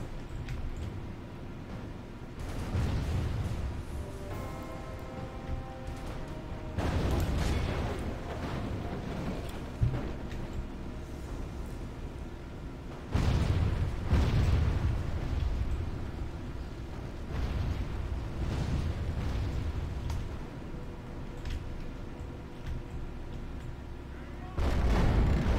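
Catapults fire and strike in a video game battle, heavy booming impacts with loud bursts near 7, 13 and 25 seconds over a constant rumbling din.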